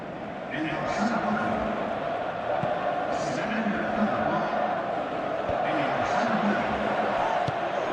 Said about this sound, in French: Il quitte le terrain, applaudi par tout un stade.